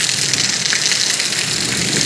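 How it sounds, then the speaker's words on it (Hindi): Heavy monsoon rain pours down outside a shop with a leaking roof, a dense, steady roaring hiss of water that stays loud and unbroken, with no voices over it. "देखा पानी कैसे आ रहा है बारिश का।"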